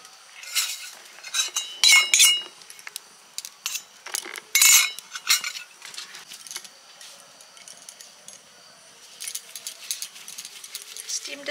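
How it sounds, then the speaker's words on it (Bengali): A biryani pot is set on a stove with a string of metallic clinks and clatters. The clangs come in uneven bursts, loud and close, with quieter gaps between them. "এবার হাঁড়িটা উনুনে বসিয়ে দেব"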